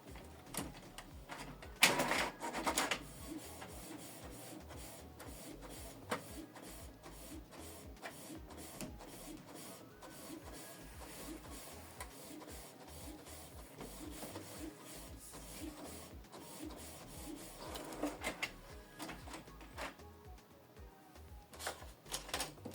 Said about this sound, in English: So it's going to print this image.